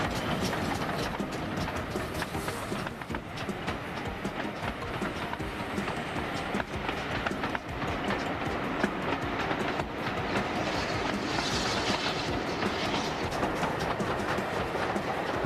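A train runs along the shoreline of Tor Bay on the English Channel, descending toward the bay: a continuous loud rumble and rattle of the wheels, with clicking over the rail joints.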